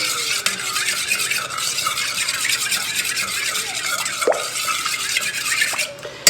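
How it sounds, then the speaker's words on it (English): Vanilla extract being stirred into wet muffin batter ingredients for zucchini muffins in a bowl, a continuous close scraping and swishing of a utensil against the bowl, steady and fairly loud, ending with a light knock. "And I'll give those just a quick stir."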